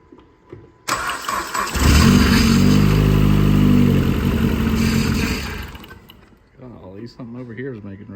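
A built SRT4 engine cranks and catches, roaring into a loud, steady idle for several seconds before dropping off, with voices talking near the end.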